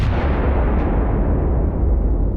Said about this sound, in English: He's slightly injured in a gunpowder explosion.